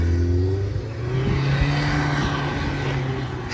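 Engine of a supercharged Subaru Pleo, a small kei car, pulling steadily under acceleration, its drone rising in pitch and loud throughout with no talking.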